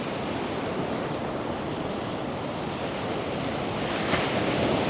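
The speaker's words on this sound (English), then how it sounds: "I wonder what the waves are generally like." Surf and breaking ocean waves roll in steadily on a wild, windy beach at My An in Da Nang, a dense continuous roar with wind buffeting the microphone, slightly louder near the end.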